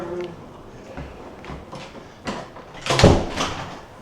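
A door at a lighthouse museum is closed: a few soft knocks and rattles, then a louder bang with a short rattle, heard close in a quiet room.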